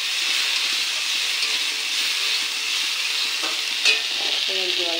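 Onion and spices fry and are stirred in a pan for a Bengali dish, a loud, continuous hiss and sizzle with brief clinks of a utensil near the end.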